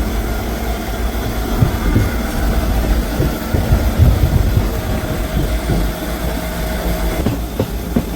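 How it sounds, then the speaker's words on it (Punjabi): Passenger train 14735 from Sri Ganganagar to Ambala Cantt runs toward Nabha railway station, heard from inside with a loud, continuous rumble and rattling wheel clatter. No one speaks. "ਆਪਣੀ ਜਿਹੜੀ ਟ੍ਰੇਨ ਆ ਉਹ ਨਾਭਾ ਰੇਲਵੇ ਸਟੇਸ਼ਨ ਤੇ ਪਹੁੰਚ ਗਈ ਹੈ ਜੀ"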